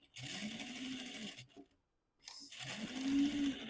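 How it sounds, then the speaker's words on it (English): A sewing machine stitches a seam around the cap of a fabric mushroom hat. Two close, steady runs of stitching are split by a short pause, with no talking. "stitch around the mushroom, pulling my pins out as I go so I don't accidentally leave one inside the cap."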